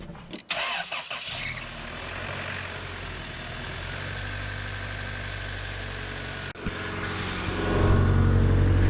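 A 1997 Toyota Tacoma engine cranks with a few sharp bursts, catches and settles into a steady mid-pitched idle that swells louder near the end, recorded close with no talking.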